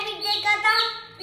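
A pet chick chirps several times in a short, close series of high, thin peeps.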